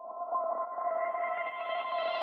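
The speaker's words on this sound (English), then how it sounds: "this is your one bass instrument. And it has just like a crazy reverb on it." Synth bass arpeggio drenched in heavy reverb, a sustained washed-out tone with stacked overtones that grows brighter and more intense toward the end, playing alone.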